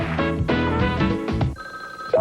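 An old telephone bell rings in repeated trilling bursts, loud and close, before a brief electronic tone takes over near the end; no one speaks.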